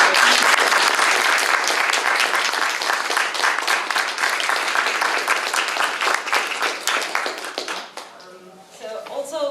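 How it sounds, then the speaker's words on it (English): A large audience applauds loudly and steadily for several seconds, the clapping thinning out toward the end. "if all of you could please give a round of applause for"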